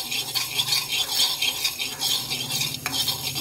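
Two spoons of fenugreek seeds being dry-roasted in a pan, a steady dry scraping and rattling stir with faint sizzle, close and continuous, no talking.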